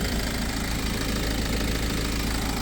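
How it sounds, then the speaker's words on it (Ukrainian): A BMW X5 F-series diesel engine idles steadily with a constant low rumble and even hum throughout, no talking. "двигун працює рівно"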